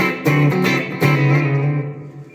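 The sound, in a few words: Yamaha Pacifica PAC112V guitar, humbucker pickup, clean channel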